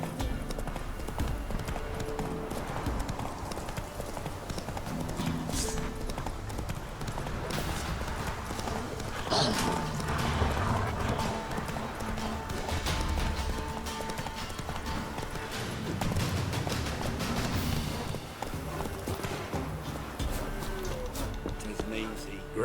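Hooves of Roach, a horse in The Witcher 3: Wild Hunt, clip-clopping at a steady galloping rhythm close by, with occasional snorts and game sounds mixed in and a voice speaking over part of it.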